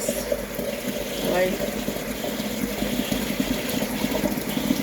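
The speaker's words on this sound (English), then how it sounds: "so what I'm running is some water" Tap water runs steadily into an English chintz teapot, a continuous close rush of splashing liquid.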